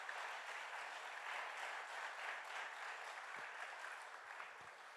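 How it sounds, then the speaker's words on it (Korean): A church congregation applauds during an evening revival service, a steady, fairly faint wash of many hands clapping throughout. "우리 박수로 한번 좀 정리해."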